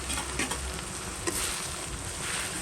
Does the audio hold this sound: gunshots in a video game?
no